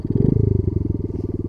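A Honda Monkey Z50J 50cc motorcycle with an aftermarket muffler revs steadily at close range, its fast, rhythmic exhaust pulses holding for about a second and a half.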